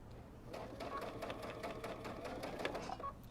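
A sewing machine stitches through the thick seam allowance of a kimono-style robe, a quiet, close, even mechanical whir with a rapid needle rhythm throughout.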